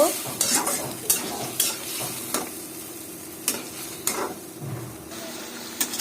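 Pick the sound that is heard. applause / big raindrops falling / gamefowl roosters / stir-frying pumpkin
stir-frying pumpkin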